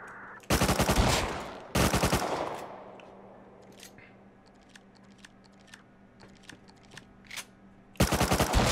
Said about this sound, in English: you can see we are now being shot at like mad